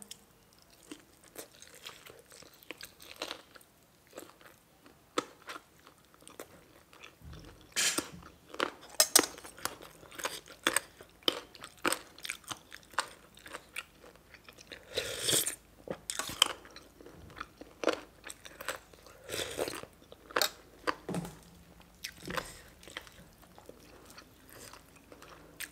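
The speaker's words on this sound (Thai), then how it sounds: "กระดูกอ่อนมันก็เคี่ยวกินได้เบิด" Close, wet crunching as someone chews tender pork rib cartilage from a stewed dish, with irregular bites and crackles repeating over a quiet room.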